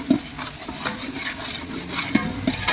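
Shallots and ground paste sautéing in hot oil for a biryani, a loud, close sizzle with repeated scraping and stirring clinks from a utensil against the pan.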